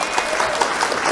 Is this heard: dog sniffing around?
no